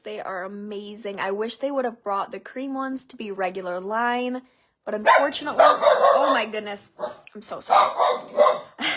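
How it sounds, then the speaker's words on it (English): A pet dog barks and yips loudly in a home while someone talks over it, apologizing; sharp repeated barks fill the second half, mixed with her speech. "That's my dog"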